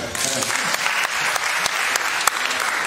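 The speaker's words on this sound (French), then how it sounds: "Nous pouvons applaudir pour nous-mêmes." A general assembly audience breaks into applause, dense continuous clapping from a large hall crowd that stays loud and even throughout, with some voices mixed in.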